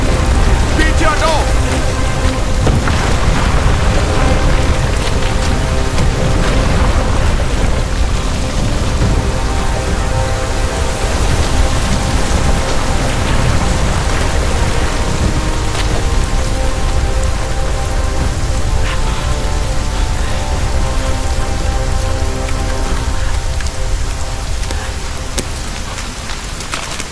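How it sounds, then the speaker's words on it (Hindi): Hail falls hard in a dramatic film scene, a loud, dense, continuous drumming that lasts the whole stretch, with sustained musical tones running underneath. "ओले गिर रहे हैं, चलो भागो।"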